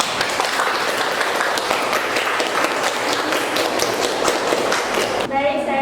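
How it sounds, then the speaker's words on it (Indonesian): A classroom of students claps after a group presentation, steady dense applause continuing throughout at moderate loudness before cutting off abruptly. "Boleh beri tepuk tangan."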